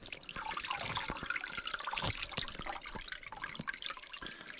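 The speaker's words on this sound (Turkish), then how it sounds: "Sarı suyu. Bakın şıpır şıpır her yandan akıyor." Whey trickles and drips out of fresh goat cheese made by hand in a highland pasture, a soft, continuous watery patter with scattered small drops, faint and close, with no talking.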